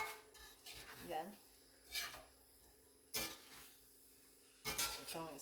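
Homemade pancit bihon noodles are stirred in a pan with a utensil, making several separate scraping, rasping strokes against the metal with quiet pauses between them, fairly close and soft.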